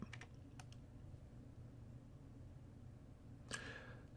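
Faint clicks of typing on a computer keyboard come in a short burst at the start and again near the end, separated by a quiet stretch of low room hum.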